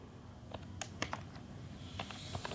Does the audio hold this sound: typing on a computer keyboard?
yes